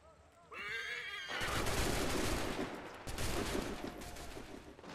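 Musket volley fire in Assassin's Creed III, a near, loud sustained crackle of massed shots that swells after a brief opening, dips briefly, then resumes, with horse whinnies at the start and voices faintly mixed in.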